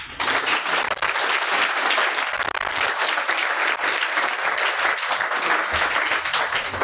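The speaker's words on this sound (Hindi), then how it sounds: "जोरदार तालियां एक बार" An audience at an academy event in Sonipat breaks into strong, sustained applause, with dense clapping that fills the whole stretch at an even, loud level and no speech over it.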